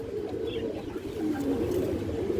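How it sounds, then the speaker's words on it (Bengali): A caged pigeon coos softly in a low, steady rolling murmur, faint and close, with light background noise and no talk. "এই দেখেন ক্রুজে আছে কবুতরটা,"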